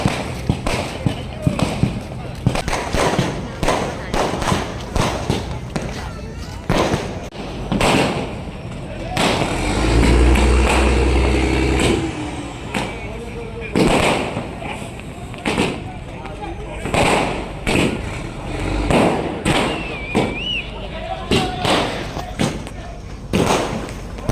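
Rapid, irregular bursts of celebratory firecrackers cracking and popping at night at Sakthikulangara fishing harbour in Kerala as fishing boats set out at the end of the trawling ban, some loud and close, with a voice talking over the barrage.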